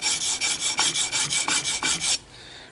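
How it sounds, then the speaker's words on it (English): Steel bench chisel rubbed back and forth on a sharpening stone, about a dozen quick rhythmic rasping strokes, close and fairly loud, stopping abruptly near the end with no voices. "I'm going to run the flat part across my stone a few times, run the bevel across"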